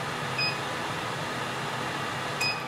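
A caravan range hood fan in an off-road caravan runs with a steady broadband whoosh, close and constant, with two faint short beeps from the controls.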